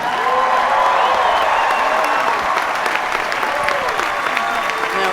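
A large audience at Harvard Commencement breaks into sustained applause, a dense, loud wash of clapping with some cheering mixed in, lasting throughout without pause.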